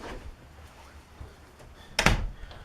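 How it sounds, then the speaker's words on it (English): A door is pushed shut at home with a single loud thud near the end, preceded by quiet room noise and faint movement. "Just shut this door."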